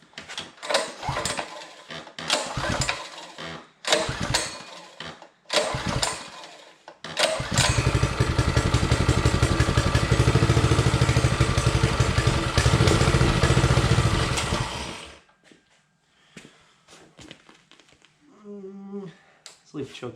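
Predator 212 engine fitted to a vintage mini bike fires up and runs loud and steady for several seconds, then cuts off; scattered clanks and handling noises come before and after.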